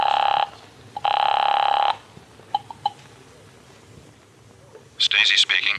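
An old-time telephone rings in two long, loud electric bursts, followed by a few faint clicks and a brief chirpy tone as the call connects in a 1949 radio drama.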